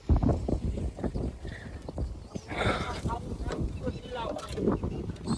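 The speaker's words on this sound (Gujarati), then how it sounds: "તો આ ટ્રેક્ટર છે." A tractor on a farm, about to go out spreading manure, rumbles steadily under wind noise on the microphone while a person talks close by.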